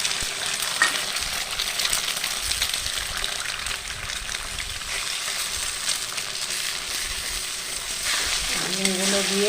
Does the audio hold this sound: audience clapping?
no